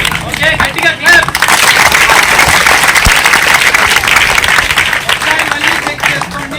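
Applause from a school group at a water park, loud and close, with a dense burst of clapping that holds steady for several seconds amid crowd noise.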